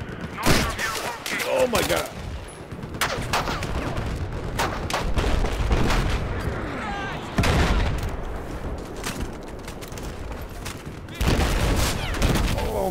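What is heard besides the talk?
enemy gunfire in the video game Battlefield 4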